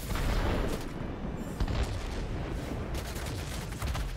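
Anti-aircraft fire in World of Warplanes rattles as a dense, continuous barrage of loud, overlapping bursts and booms with no talk over it.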